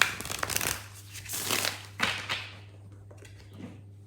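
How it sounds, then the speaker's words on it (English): Lunar Soul Tarot cards being shuffled by hand, soft riffling and papery slaps in short bursts over a low steady hum, close and quiet, trailing off to near silence. "I'm just going to take some time to shuffle and to quickly tune in."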